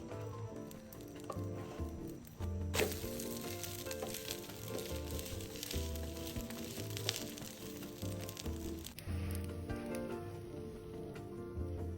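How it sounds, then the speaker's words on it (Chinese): A tuna egg roll fries in a pan: thin beaten egg topped with a pastry wrapper, cooked on both sides. It gives a steady, close sizzle with occasional louder crackles and no talking. "然后煎至两面熟透"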